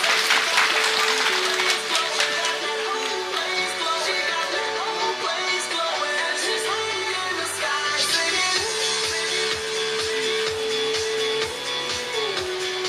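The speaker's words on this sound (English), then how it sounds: "Another round of applause for him" Scattered audience applause for Mr. Nagaland 2025 at an ethnic cultural show, clapping that thins out under sustained music with a droning tone and a rhythmic beat.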